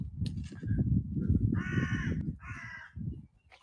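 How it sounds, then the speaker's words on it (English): A crow caws loudly overhead in two harsh, drawn-out calls in Perivale Wood, with steady low rumble and rustling beneath. "Very loud crow shouting up there."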